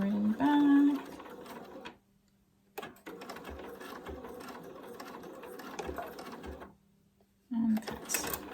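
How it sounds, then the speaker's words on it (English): A home sewing machine runs in quick bursts stitching forward and back across a fabric face mask, with a close mechanical whir stopping and starting between short pauses, and a person talking intermittently. "Stitch forward and back."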